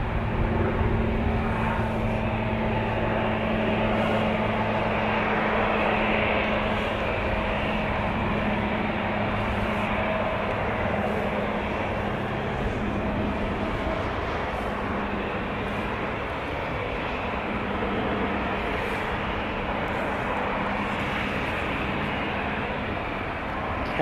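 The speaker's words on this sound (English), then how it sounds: "Kalispell is where this citation's going." A Cessna 525B Citation private jet at Vancouver airport gives a steady, moderately distant engine roar that holds evenly without a break.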